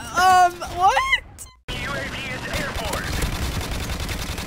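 Automatic rifle fire in Modern Warfare Remastered gameplay, a loud burst of gunshots at the start, then a brief gap and busy battle noise underneath a speaking voice.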